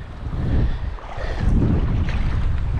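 Strong wind buffets the microphone while waves wash in on a beach at Cape Hatteras on North Carolina's Outer Banks, a loud, rumbling roar that swells and eases with gusts, with no voices.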